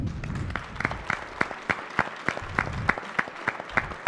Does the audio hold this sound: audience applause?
yes